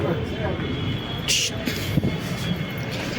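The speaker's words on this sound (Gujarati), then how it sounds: "મિત્રો અમે અત્યારે ચડી ગયા છે મેટ્રો ટ્રેનની અંદર" Inside a moving Ahmedabad metro train carriage, a steady low rumble of the ride runs throughout while people talk over it, with a brief airy hiss partway through.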